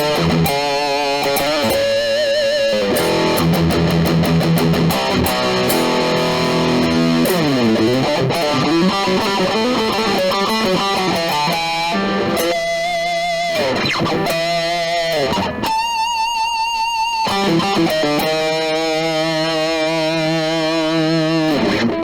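Electric guitar run through a Keeley effects pedal into a solid-state Orange amp with digital reverb, played continuously for about twenty seconds as a busy stream of lines, bends and chords with lingering overtones, loud and close, with no voices.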